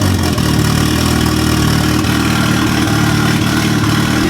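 A Honda Civic EG engine runs loud with an open turbo, a steady, harsh and constant roar that fills the whole stretch with no talk.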